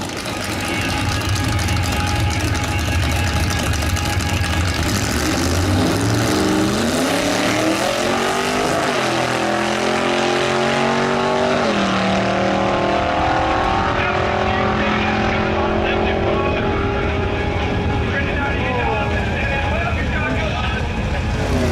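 A vintage drag car with a funny car cage poking through its rear window runs at a drag strip, its loud engine roaring continuously with rising and falling revs close by while someone talks over it.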